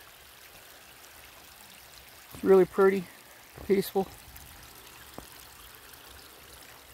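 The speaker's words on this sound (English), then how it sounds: "just a little bitty trickle stream" A small trickling stream flows into a creek outdoors, its soft, steady babble running continuously and faintly under a brief stretch of speech.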